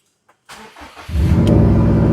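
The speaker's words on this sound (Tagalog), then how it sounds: "Double check bago mag-start ng engine." A Subaru STI engine in a garage cranks briefly after a moment of silence, then catches and settles into a loud, steady idle.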